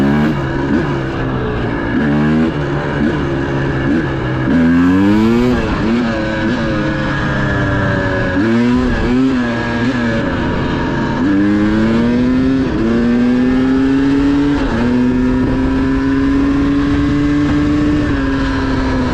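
A motorcycle fitted with an XTNG Gen3 Pro metering rod carburetor rides down a road, its engine note rising and falling through several gear changes and revving pulls, loud and close with steady wind rush throughout.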